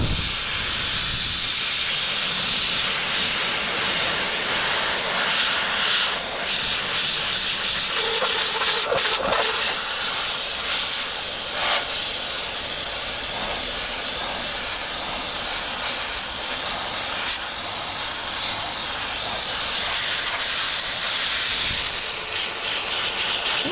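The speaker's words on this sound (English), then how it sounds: "So I just want to see if the steamer will clean them up a little bit." A steam cleaner blasts car door panels with a loud, continuous hiss and occasional rubbing, close by and without talk throughout.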